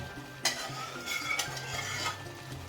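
Cooked moong dal, tomato and chilli are stirred into a hot tempering in a pan, giving a soft sizzle under a few sharp scrapes and clinks of a spoon against metal, close and fairly quiet.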